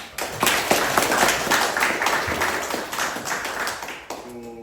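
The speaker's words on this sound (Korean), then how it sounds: "고생 많으셨어요. 박수 한번" Audience at a horse commentator graduation ceremony in Jeju claps together, a brisk burst of crisp hand claps that gradually thins out, with a faint tonal sound at the end.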